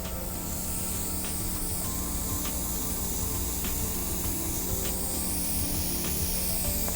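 Airbrush spraying foundation makeup onto a face, a soft continuous hiss that stays even throughout, with faint occasional clicks, quiet and close.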